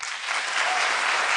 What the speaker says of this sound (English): Applause for the answer.